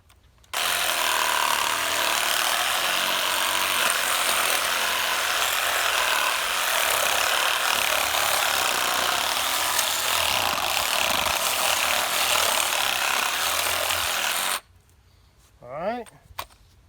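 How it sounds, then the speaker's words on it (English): A reciprocating saw cuts through a deer carcass while it is being butchered, giving a loud, steady rasping buzz that runs for about fourteen seconds, then cuts off abruptly, followed by a brief quieter noise. "Then take the sawzall and recut down the other side."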